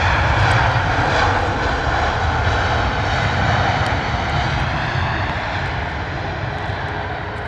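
Loud, steady roar of a Virgin Atlantic Airbus A330 jet airliner landing at London Heathrow in wet, windy weather, broadband engine and air noise holding near and constant throughout with a slight fade toward the end.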